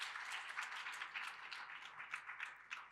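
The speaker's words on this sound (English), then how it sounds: "Can we give again the round of applause for Mashodi?" An audience applauds at a teaching and learning festival: steady, fairly faint rapid clapping from many hands with small swells, carrying on for the whole few seconds with no talk over it.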